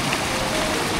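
Water released from the Brahmam Sagar dam gates, a dense steady rushing hiss like heavy rain or a strong stream, loud and continuous over a single brief moment with no voices.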